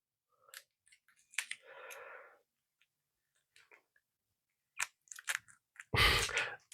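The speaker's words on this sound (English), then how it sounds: "let me get the scissors. Let's try and snip off a corner." Scissors snip into the corner of a toy's plastic packaging, giving a few quiet isolated clicks and a short crunchy rustle, then a louder burst of handling noise near the end in an otherwise quiet room.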